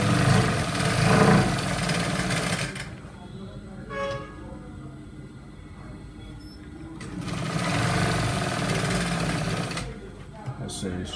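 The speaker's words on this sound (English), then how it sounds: "I'll be sewing" A sewing machine stitches trouser fabric in bursts, running loudly at the start and again near the end with a quieter pause between, alongside faint background noise.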